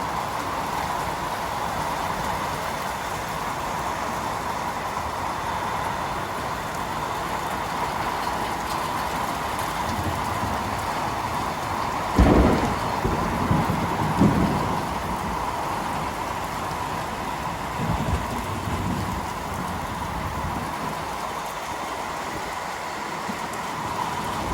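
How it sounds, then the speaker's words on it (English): Heavy rain falling during a big seasonal storm, a steady broadband hiss of downpour heard from near a house, moderately loud and continuous, with a few brief louder gusts or thumps midway and no talk. "Raining heavier on this side."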